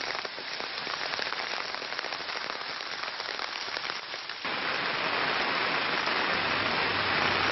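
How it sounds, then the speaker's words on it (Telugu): Heavy rain from Cyclone Phethai pours down in a dense, unbroken hiss of drops hitting surfaces, close and loud throughout, growing even more intense partway through, with no voices. "కుండపోత వర్షం పడుతోంది"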